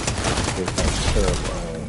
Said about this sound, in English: Whoever's shooting at me